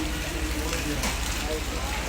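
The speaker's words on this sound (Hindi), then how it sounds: "यहाँ बारिश आ गई है 11 बजे के आसपास" Steady rain falling in Sonprayag near Kedarnath in the Uttarakhand mountains, a soft continuous wash of patter, faint and even throughout, with no voices over it.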